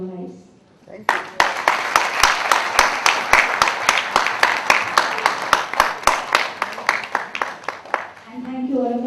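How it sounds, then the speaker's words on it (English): An audience at a book event for an author's Fragmented Frames breaks into sustained applause, dense clapping that starts abruptly after a short pause and carries on for about eight seconds before a voice returns at the end. "thank you all of us for clapping for me."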